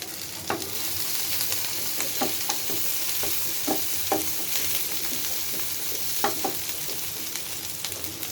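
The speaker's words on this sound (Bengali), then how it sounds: "তেলটা গরম হয়ে গেছে পেঁয়াজ দিয়ে দেব পেঁয়াজ দিয়ে দিলাম" Onions fry in hot oil for a home-cooked Bangladeshi meal, a continuous moderate sizzle with regular spoon scrapes and light taps from stirring, close and steady with no talk.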